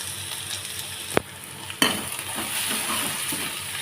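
Vegetables fry and sizzle steadily in a pan while being stirred, with a couple of sharp scraping knocks of the spoon against the pan, close and continuous throughout.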